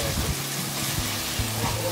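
Ginger-garlic paste sputtering with shallots in a pan for a Kerala-style karimeen fish curry with green mango, a dense, close sizzle broken by a few low stirring thumps, with no clear talk.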